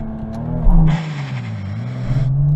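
A Toyota Supra TRD engine bogs on a quarter-mile launch: a loud, steady low engine drone sags and wavers in pitch under broad rushing noise, with no talk.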